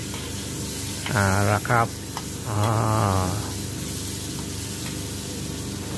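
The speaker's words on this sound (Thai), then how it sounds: "เราเริ่มต้นเอาเบคอนลงกระทะคั่วนะครับให้ได้ที่" Bacon frying in a pan gives a steady hiss and sizzle throughout, partly covered by a man's brief remarks in the middle.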